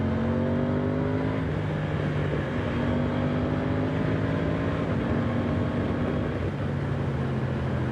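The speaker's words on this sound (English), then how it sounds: "in these twisty roads is where the bike really comes alive. Lots of low down grunt." An Aprilia Tuono 660 Factory motorcycle pulls through twisty roads with a loud, steady engine note that climbs and falls as it shifts through gears, all under heavy wind roar.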